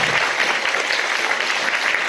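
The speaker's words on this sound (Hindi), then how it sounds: "बजाओ ताली जो फ्री है तो यार" An audience at a spiritual discourse breaks into dense, continuous clapping, loud and close, holding steady for the whole moment with no voices over it.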